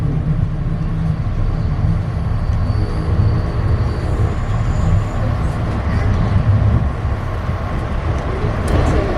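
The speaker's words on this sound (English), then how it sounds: "There's the front of our train." Amtrak passenger train arriving at Bellingham Fairhaven Station, a steady, loud, low rumble of rail wheels and engine that holds throughout, with faint mechanical whines over it.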